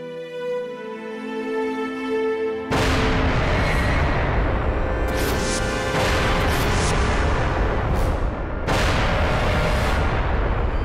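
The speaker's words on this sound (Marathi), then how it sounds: "आम्ही तोफांचे आवाज ऐकले." A sudden heavy roar of cannon fire begins after a quiet tonal passage, a sustained rumbling barrage with repeated blasts cracking through, loud and dense.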